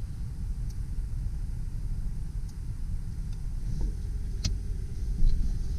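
A 2008 Ford Explorer 4x4 drives in 4x4 low, with a steady, heavy low rumble from inside the cab and a few faint clicks and rattles scattered throughout.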